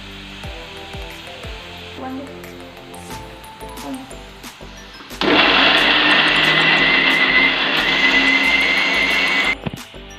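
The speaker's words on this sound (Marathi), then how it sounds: "तोपर्यंत मी टोमॅटो बारीक करून घेते" An electric mixer grinder blends tomatoes into paste, a loud, steady whirring roar that kicks in abruptly and runs for about four seconds before cutting off, preceded by quieter kitchen sounds and music.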